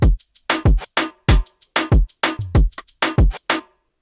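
A moombahton beat with hi-hat and kick drums added thumps along in a punchy syncopated loop, deep kicks under bright ticking hats and snappy percussion, loud, dry and tightly gated with no talking.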